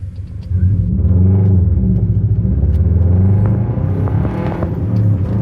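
A 300hp rally Subaru engine drones loud and close during a drift ride, a steady low rumble with rising and falling revs that ease off slightly near the end.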